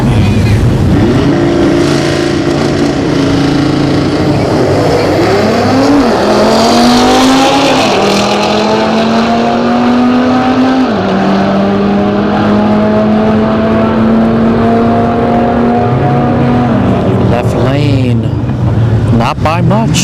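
Audi S6 and Audi RS3 drag racing at Orlando Speed World, loud close engines revving hard through repeated gear shifts with climbing and dropping pitch, a crowd and voices audible underneath.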